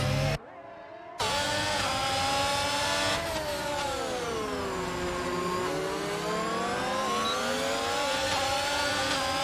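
Formula One race car in a video game tearing down the long back straight at Baku, a steady high-pitched engine whine rising through the gears with one brief cutout near the start, loud and continuous with no talk.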